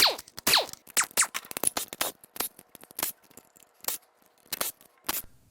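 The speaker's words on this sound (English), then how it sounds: "I'm going to cut some more hoses." Hoses being cut during a teardown of a damaged Audi S6 5.2L V10 engine, a rapid run of sharp snips, clicks and scrapes close by, in bursts with short pauses and no talk.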